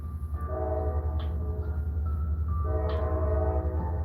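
A train rolls past with a steady heavy rumble while its horn sounds in sustained, loud blasts that carry through the whole stretch.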